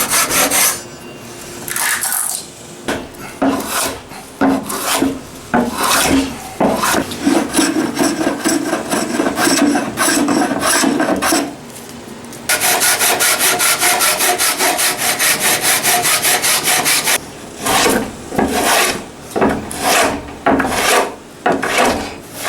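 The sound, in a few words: hand sawing off excess cedar wood inlays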